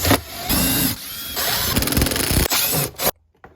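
A fender liner being pulled off a Toyota Land Cruiser, a loud close burst of scraping, rattling and buzzing plastic and tool noise for about three seconds, then cutting off to near silence.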